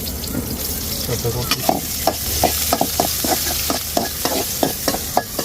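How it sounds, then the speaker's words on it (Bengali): Chopped onion and green chilli slices stir-fry in a kadai with a steady close sizzle, while a spatula scrapes and clacks against the pan in a fairly regular rhythm. "একটু ভালোভাবে নেড়ে চেড়ে নেবো মানে আমি পেঁয়াজটা হচ্ছে একটু লাল লাল করে নেবো"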